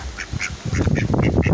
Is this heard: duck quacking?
yes